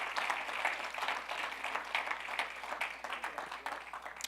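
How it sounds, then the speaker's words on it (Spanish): A church congregation applauding during a Spanish-language sermon, continuous crowd clapping that holds steady and fairly loud, tapering slightly toward the end. "Podemos darle un aplauso al Señor, hermanos."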